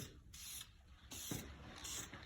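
Spray can hissing in short bursts, laying light coats onto an engine intake, three quiet sprays of under a second each with small gaps between.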